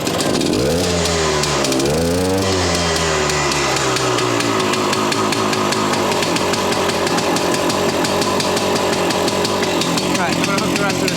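Harley SX175 motorcycle engine firing up after its spark is restored, a loud rising rev that settles into a rough, steady running note close by, with people talking over it.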